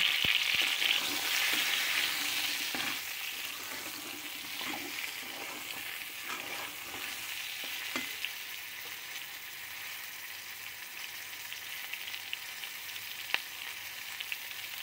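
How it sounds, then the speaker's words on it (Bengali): Pointed gourd fries in oil with salt, giving off a soft, continuous sizzle at a fairly low level. Occasional light scrapes from stirring sound over it, with no voices. "একটু লবণ দিয়ে এটাকে ফ্রাই করব"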